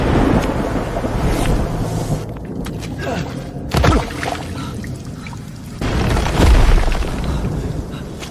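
A heavy afternoon rainstorm pours down steadily and loudly, with deep thunder rumbling through the downpour and swelling in bursts.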